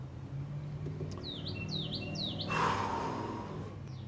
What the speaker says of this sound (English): the birds agree.